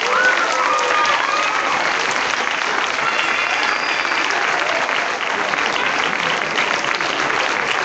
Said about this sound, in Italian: quindi meritano veramente un grossissimo applauso